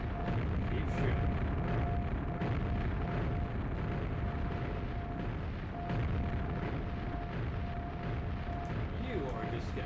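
Gunfire and explosions from the Quake N64 game on Nightmare difficulty, a continuous dense roar of blasts and booming bursts with a steady tone running underneath.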